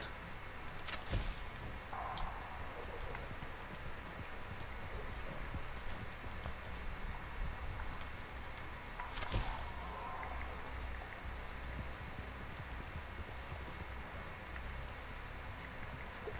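Horse hooves clip-clop steadily through a video game race against a continuous low rumble, the footfalls faint and even, with two sharp bursts near the start and the middle.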